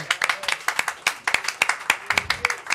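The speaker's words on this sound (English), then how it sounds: "A round of applause, please." A small audience claps at an anniversary show, with a brisk run of close, sharp handclaps in an uneven rhythm filling the whole moment, lively but not a large crowd.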